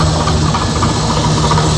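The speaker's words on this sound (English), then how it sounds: "that's where it sounds like the knock is coming from" Car engine with a suspected knock, idling near the valve covers with an oil leak onto the exhaust: loud, close, steady rumbling drone with a continuous low hum and faint rapid ticking texture, no talk.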